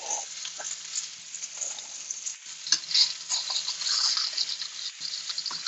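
Pepper-crusted filets frying in a smoking-hot pan, a steady close sizzle and crackle with small pops and scrapes as the pieces are flipped, no voices.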